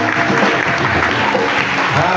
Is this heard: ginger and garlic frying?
no